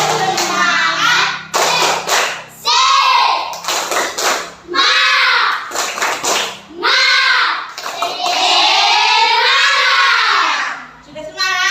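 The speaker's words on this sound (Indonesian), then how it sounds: "kita akan melakukan tepuk semangat" A classroom group of children performs the 'tepuk semangat' spirit clap, loud, rhythmic claps and thumps mixed with energetic shouted chanting in bursts.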